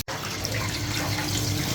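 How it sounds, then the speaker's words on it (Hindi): Raw mangoes are washed under a running tap, water streaming steadily and splashing into a sink, heard close and continuous after a brief silent start, with no talking. "तो नल के नीचे से 2-3 बार धो लिया मैंने।"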